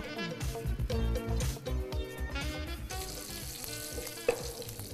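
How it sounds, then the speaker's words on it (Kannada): Cumin and chopped onion fry in ghee in a pan, giving a continuous crackling sizzle at close range with occasional stirring clinks and scrapes. "ಇದಕ್ಕೆ ಈರುಳ್ಳಿ ಸಣ್ಣದಾಗಿ ಹೆಚ್ಚಿರೋ ಈರುಳ್ಳಿ ಬಣ್ಣ ಹೋಗೋವರೆಗೂ ಇದನ್ನು ಹುರಿಬೇಕು"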